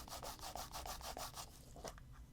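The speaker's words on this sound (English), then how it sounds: "Next, I'm cleaning the gasket" Rhythmic rubbing strokes as a watch case gasket from a Luminox Navy Seal is wiped clean, a steady series of close, scratchy swipes that slow and thin out toward the end.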